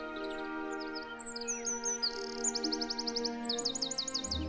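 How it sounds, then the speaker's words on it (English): A small wren sings close by on a riverside walk near the Blackwater in Coggeshall, Essex, pouring out rapid high trills and rattling runs that rise toward the end, over a steady hum of background noise. "the unmistakable song of one of Britain's smallest birds, the wren"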